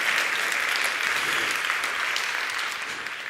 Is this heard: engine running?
no